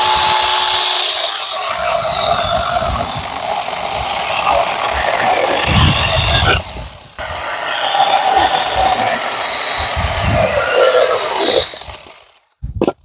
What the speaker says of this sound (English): It's cutting really nice.